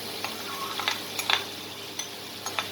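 Garlic-ginger paste dropped into a hot pot of mutton yakhni pulao, giving a soft steady sizzle with a few sharp ticks and stirring clicks, close by and fairly quiet, no voices.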